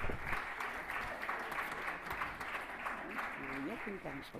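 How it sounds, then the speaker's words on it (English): Quiet applause from a crowd at a fall sports award ceremony, steady clapping at a distance with a voice speaking over it near the end. "Let's give a round of applause"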